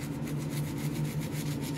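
A brush scrubs an orthodontic aligner tray in quick, even back-and-forth strokes, a steady close-up rasping rhythm with no talk over it.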